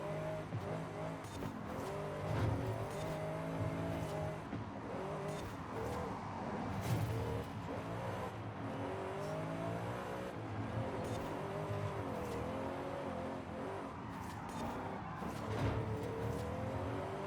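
Fast racing cars roar with sustained engines, rising revs and occasional tire squeal, a steady loud drone of several cars running at speed.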